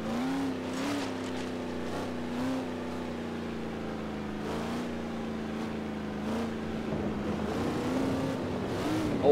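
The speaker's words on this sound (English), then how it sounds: "I like the sound effects over the wooden bridge" In Forza Horizon 3, a car engine hums steadily with a low droning tone, joined by periodic clattering thumps as the tires roll over a wooden bridge.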